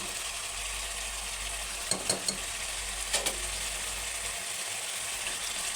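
A spoon stirs a mixture of chopped raw mango, moong dal and tomato in a pan, with a steady sizzle underneath and a few soft scraping clicks, close and fairly quiet.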